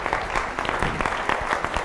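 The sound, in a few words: audience applause for an audience member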